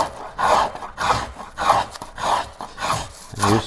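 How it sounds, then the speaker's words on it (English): A hand tool shaves the curved top surface of a wooden paddle blank in repeated rasping strokes, about six close, steady scrapes in a regular rhythm with no talk. "So I try to do a little shaving just on the top of the curve."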